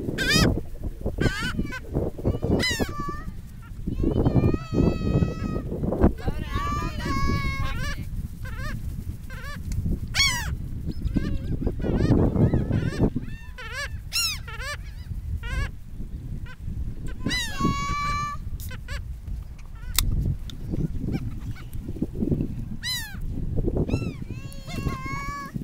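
Seagulls on a beach are being hand-fed and give repeated loud, harsh squawking calls close by. People talk and laugh throughout under steady wind noise.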